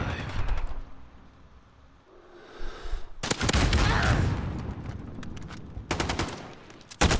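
Rapid automatic gunfire from a frag rifle in Call of Duty Modern Warfare, loud bursts of fire dominating after a quieter start, with a final short burst near the end.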